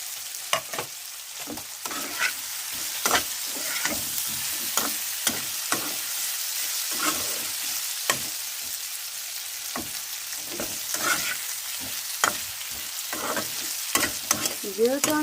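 Pre-fried potatoes sizzle in a pan with onion and spices, a continuous soft frying hiss broken by frequent scraping clicks as a spatula stirs them, close-up and without talk.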